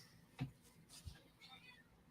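A cat meows indoors, with a couple of short, faint cries spaced about half a second apart and a softer drawn-out call after them, all quiet and close.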